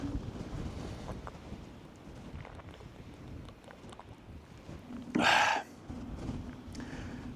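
Wind gusts across an exposed fell summit, a low buffeting roar against the microphone that rises and falls, with one brief louder blast of wind noise midway and no speech.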